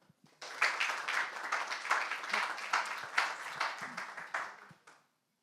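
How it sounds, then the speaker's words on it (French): A seated event audience breaks into sustained, dense applause to welcome a new partner onto the stage at a digital education gathering, claps rising sharply, holding steady for several seconds, then fading out at the end. "je vous prie d'applaudir et d'accueillir"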